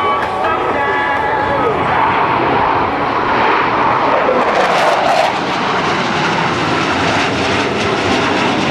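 US Navy Blue Angels jets making a low, flat pass at an airshow at NAS Oceana, a loud, steady roar of jet engines that swells partway through and keeps going with no break.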